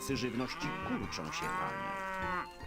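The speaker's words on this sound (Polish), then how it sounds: "Nasze krowy dopadła dziwna dolegliwość." Cattle in the video game Stronghold moo repeatedly, several drawn-out lowing calls overlapping close together, loud and clear.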